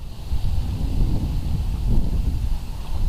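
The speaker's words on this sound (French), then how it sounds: "Parce qu'il y a pas mal de vent" Gusty wind buffets the microphone outdoors on an October hike and bivouac in Essonne, France, a steady low rumble swelling and easing without pause.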